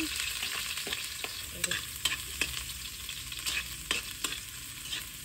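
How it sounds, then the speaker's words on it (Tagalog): Garlic and onion sautéing in oil, a steady close sizzle broken by sharp scraping strokes of a spatula against the pan, with no talking. "Oil kay gisahon na nato og sugot ang mga lamas."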